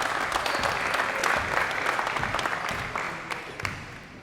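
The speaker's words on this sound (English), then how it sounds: "so just give them a round of applause to help them out." Applause for the under-14 boys' state championship team at a coaching clinic, a steady room-filling crowd clapping that holds evenly, then thins slightly toward the end.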